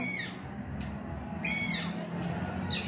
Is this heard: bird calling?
yes